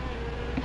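Wasps buzz in a steady, low drone for a brief moment, close by and unbroken, with no voices over it.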